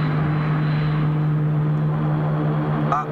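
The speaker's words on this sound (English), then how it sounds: "the orbit jet is in the process of landing" The orbit jet from the 1950s space serial Manhunt in Space comes in to land with a loud, steady engine drone and an even hum throughout, close and continuous.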